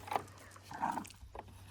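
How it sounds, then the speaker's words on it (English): A neighbor's dog makes a few short, soft whimpering yips at a moderate distance, faint against a low steady hum, with no talking. "That's our neighbor's dog."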